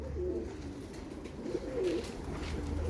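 Pigeons coo steadily in repeated low, throaty phrases at close range, set among birds kept for sale at a Friday market, with no talk over them.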